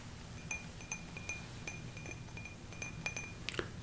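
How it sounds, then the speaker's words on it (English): Light taps on glass in a quiet room, a steady run of small bright clinks spaced roughly every half second, faint and close, growing busier toward the end. "We also have tapping on glass."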